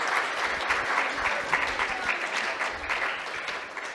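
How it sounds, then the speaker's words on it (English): An audience claps after a devotional class, a steady burst of applause lasting a few seconds that stays even throughout, heard from within the room. "Let's have another round of applause for Mataji for sharing such a"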